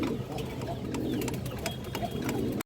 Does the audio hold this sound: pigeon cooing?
yes